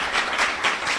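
Brief burst of audience applause at a political party event, a soft dense patter of clapping lasting about a second.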